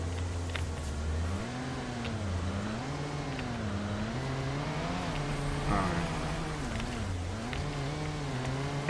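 A car drives in the factory-building video game Satisfactory, its engine droning in a steady wavering tone that rises and falls with speed, moderately close, with a faint voice in the background.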